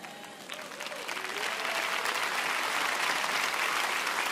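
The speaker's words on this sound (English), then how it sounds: "That was a PGA clap." Church congregation clapping at a Good Friday evening service, a broad sustained wash of applause that swells after the first second and holds steady and full, with a faint voice underneath at the start.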